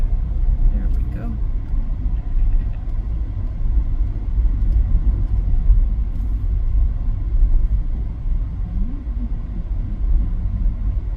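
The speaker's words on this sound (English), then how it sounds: "wait till the truck goes by" A truck passes on a street in Annapolis, Maryland, heard as a continuous low engine rumble and road noise from inside a vehicle, steady throughout.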